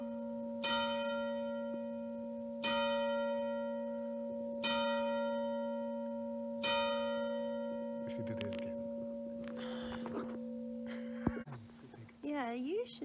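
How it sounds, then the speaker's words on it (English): Church bells ring at a chateau, four sustained, resonant strikes spaced about two seconds apart, each decaying slowly over a steady hum, followed by some rustling and a brief voice near the end. "Wait for the bells."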